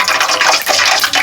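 Drops of water hit hot cooking oil in a home kitchen pan being readied for frying egg bonda, giving a loud, close, continuous crackling sizzle for about a second.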